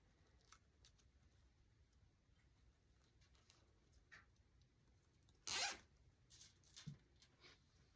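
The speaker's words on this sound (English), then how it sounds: "just zip tie that there loosely for now and go all the way around the edge here" Zip tie being fastened around a wire wreath frame, one short, loud ratcheting zip near the middle of a mostly quiet stretch, with a few faint ticks and rustles around it.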